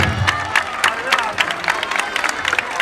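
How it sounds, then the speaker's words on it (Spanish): A festival crowd claps and cheers for Beatriz at a comedy-style show, with sharp, uneven bursts of hand claps and whoops ringing out loudly and close for a few seconds. "Un aplaudiment per a Beatriz"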